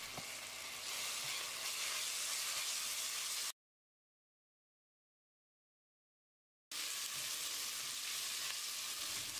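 Ginger garlic paste frying in a pan, a steady bright sizzle with faint stirring, broken by a few seconds of total silence before the sizzling resumes at the same level.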